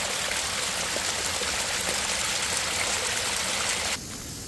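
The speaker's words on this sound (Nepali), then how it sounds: "बाटोमा त खोला बगेको छ" Steady, loud rush of a stream of water flowing across a landslide-damaged hillside road at Chinde Danda in Dharan after heavy overnight rain, continuous broadband roar with no talk, dropping slightly in level near the end.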